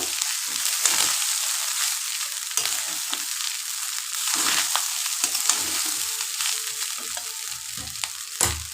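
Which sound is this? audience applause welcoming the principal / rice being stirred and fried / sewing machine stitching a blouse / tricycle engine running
rice being stirred and fried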